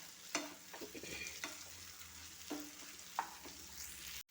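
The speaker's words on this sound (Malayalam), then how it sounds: "ഇപ്പോൾ ഇവിടെ സവാളയും പച്ചക്കറികളെല്ലാം ഇവിടെ വഴണ്ട് വന്നിട്ടുണ്ട്" Onions and vegetables sautéing in oil in a pan for crushed pepper chicken, with a steady soft sizzle and several sharp clinks of a stirring spoon against the pan.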